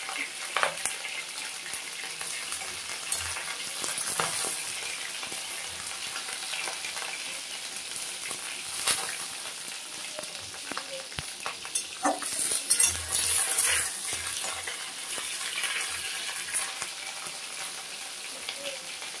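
Ginger paste frying and being stirred in a pan for a hilsa fish-head mixed vegetable dish, a steady soft sizzle with scraping stir strokes and occasional utensil clinks throughout.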